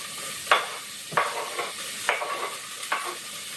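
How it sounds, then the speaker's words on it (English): Yellow onion sizzles steadily in melted butter in a pan on a stovetop, with several distinct stirring scrapes at a regular pace over the constant frying hiss. "in my pan on the stove, I'm putting 1 yellow onion"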